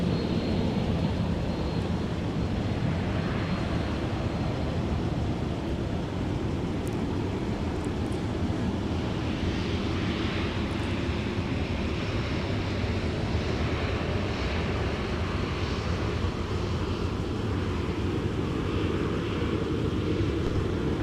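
Delta flight 160 heavy, an airliner bound from Minneapolis to Amsterdam, rumbles steadily at MSP airport in winter, a broad continuous roar heard from a distance with wind buffeting, and no voices.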